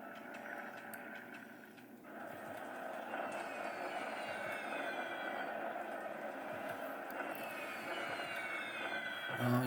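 Bomber aircraft attack in the War in the Pacific strategy game, a quiet, continuous rumble of engines and distant impacts that slowly swells, with no talking.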